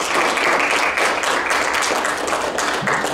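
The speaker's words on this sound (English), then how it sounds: "Give them a big round of applause" A crowd claps loudly to welcome a band to the stage at a rally concert event, a dense, close, continuous burst of applause with scattered sharper claps throughout.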